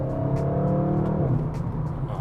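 A 2023 Audi RS6 Avant with a modified exhaust pulls hard in second gear, its deep engine note rising in pitch as it accelerates, loud and close throughout.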